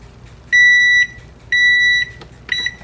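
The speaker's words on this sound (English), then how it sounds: "there's my timer going off" An electronic kitchen timer beeps: two long steady high-pitched tones and the start of a third, close by in a quiet room.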